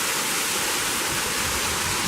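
A small waterfall on a hiking trail at Monte Sano State Park, Alabama, gives a steady, close, full-bodied rush of falling water that holds unbroken throughout.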